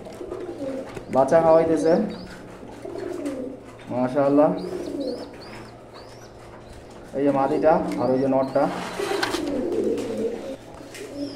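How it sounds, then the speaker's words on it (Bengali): A pair of silver pigeons feeding their young gives soft, low cooing phrases in a few bursts, with someone talking over and between the calls. "যে এইখানে এক জোড়া সিলভার কবুতর"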